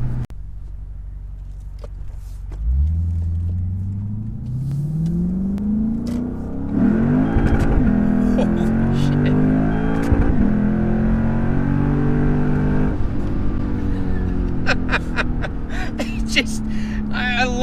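A Sonic Blue Lexus IS-F engine revs hard while accelerating. Its roar climbs in pitch through repeated pulls, loud and close, with people talking over it.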